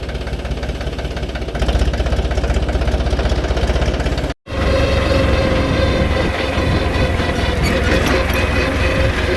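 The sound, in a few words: tractor engine running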